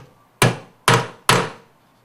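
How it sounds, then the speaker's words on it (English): A hammer strikes a center punch three times in an even rhythm, marking hole locations through a template for installing a waste container slide system; the metallic taps are close, sharp and loud, with no talking. "we're going to take our hammer and our center punch and we'll go ahead and mark our hole"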